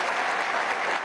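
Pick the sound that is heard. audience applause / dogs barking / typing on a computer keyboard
audience applause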